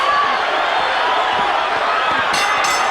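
Boxing arena crowd during a heavyweight bout between Riddick Bowe and Evander Holyfield in 1993, a dense loud roar of rising cheers with a commentator's voice over it.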